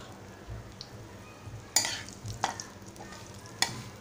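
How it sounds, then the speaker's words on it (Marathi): Semolina roasting in cow ghee in a hot pan gives a soft, steady sizzle, with a few sharp scrapes and clinks of a spoon stirring against the metal. The sound is close and quiet, and no one speaks. "आता ह्याच्यामध्ये मी गाईचं साजूक तूप घालत आहे आणि रवा घालत आहे।"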